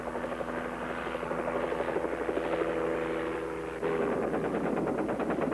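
A Bell AH-1 HueyCobra attack helicopter prototype in flight testing, steady loud rotor thump and engine drone with a rapid chopping pulse, continuous and fairly close, no voices.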